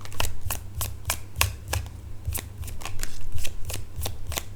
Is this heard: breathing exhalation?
no